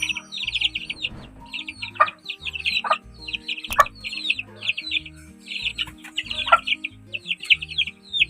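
Chicks and chickens in a coop, with the chicks giving rapid high-pitched peeps in repeated bursts and the hens clucking lower, all over steady background music.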